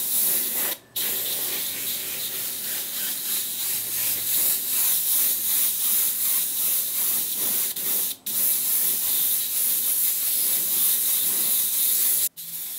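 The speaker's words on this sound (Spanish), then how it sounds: "ya le echamos el color candy rojo a nuestro aerógrafo. Es hora de aplicarlo a nuestras flamas de base blanca." An airbrush sprays candy red paint over white-based flame artwork, a continuous close airy hiss broken by three brief pauses in the spray.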